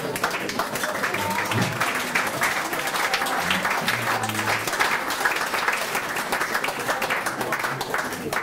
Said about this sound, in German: Einen grossen Applaus.